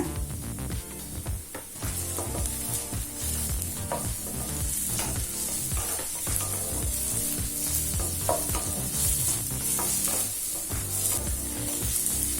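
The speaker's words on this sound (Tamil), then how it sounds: "இப்போ வெங்காயம் நல்லா வதங்கிடுச்சுங்க." Onions with ginger-garlic paste sizzle steadily in hot oil for potato kurma, a continuous loud crackling fry with occasional stirring scrapes throughout.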